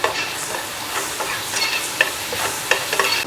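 Onions frying with ginger garlic paste for Malavalli-style mutton chops at a hotel kitchen, a loud continuous sizzle broken by sharp clinks and scrapes of a spoon stirring the pan.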